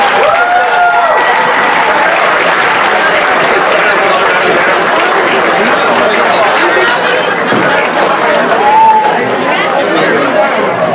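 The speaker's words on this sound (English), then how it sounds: "There's a round of applause for the girls who are going on to play in college next year after they graduate from their schools." Audience at an awards dinner applauding graduating girls heading to play in college: loud, sustained clapping mixed with cheering and crowd chatter throughout, with brief higher-pitched voices rising above the noise.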